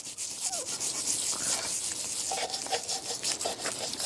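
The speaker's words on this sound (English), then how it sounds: "we got some wire brushes. Just kind of get in here and scrape wherever we can." A wire brush scrubs loose paint and rust off a metal surface in quick, steady back-and-forth strokes, producing a continuous close scratchy rasp with no talk.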